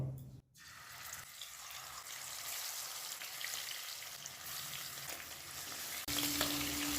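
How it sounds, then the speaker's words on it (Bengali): Fish frying in mustard oil in a wok over a high gas flame gives a steady hissing sizzle that swells near the end. It sounds fairly faint and close, with a short gap early on. "গ্যাসটাকে হাই ফ্লেমে রেখেই 3 থেকে 4 মিনিট মাছটা ভেজে নেব।"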